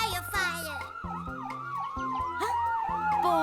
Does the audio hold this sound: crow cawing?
no